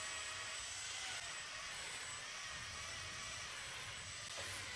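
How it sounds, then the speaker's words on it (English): A cordless drill spinning a rotary wire wheel at a low speed setting, scrubbing dirt from small crevices while prepping a Pontiac 461 stroker engine for paint; a steady, continuous whir and hiss runs unbroken throughout. "We're getting the drill with the rotary wire wheel to try and get in some of these little spots real quick"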